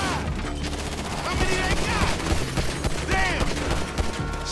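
Rapid bursts of gunfire from Grand Theft Auto 5 gameplay crackle in close, loud volleys, mixed with whooshing and whining effects. A player talks over the shots.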